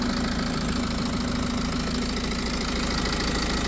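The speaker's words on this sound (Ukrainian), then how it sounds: "двигун працює рівно, сухий" A BMW X5 F15 diesel engine idles steadily and evenly, a continuous low rumble with a faint rhythmic knock, close by and uninterrupted.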